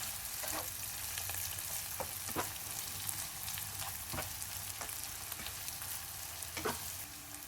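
Two tablespoons of mustard seeds sizzling in hot oil for a Chicken 65 samosa filling, a steady frying hiss with scattered sharp pops and crackles, close and fairly quiet.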